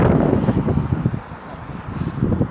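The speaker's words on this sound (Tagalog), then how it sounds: "At medyo malakas yung hangin, hinahangin kami." Strong wind buffets the microphone during a mountain bike ride, in rumbling, gusty waves, loud and close, with no speech heard.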